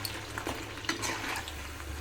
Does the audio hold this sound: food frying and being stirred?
yes